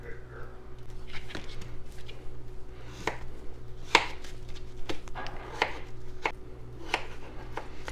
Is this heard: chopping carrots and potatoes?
yes